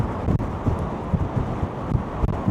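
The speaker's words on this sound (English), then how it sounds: "The wind is quite severe now." Severe wind roars at sea on the deck of a cruise ship nearing Wellington, New Zealand. A continuous loud buffeting rush hits the microphone with gusty swells and no talking.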